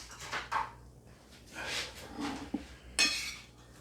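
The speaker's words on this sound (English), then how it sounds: "Now I get a knife and fork." Knife and fork clinking against a plate while trying air-fried frozen Aldi salmon, a few light, close metallic taps and scrapes spread out among quiet pauses.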